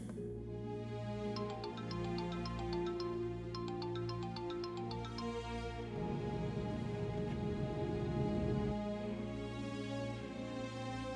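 A phone rings on and on with a synthetic melodic ringtone, repeating a bright tinkling pattern over a steady hum and swelling with a brief louder band midway; no one answers and no voices are heard.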